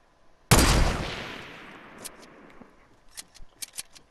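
A single loud, sharp gunshot in a video game booms out and decays over about a second, followed by a scatter of quieter clicks and snaps, with no talk.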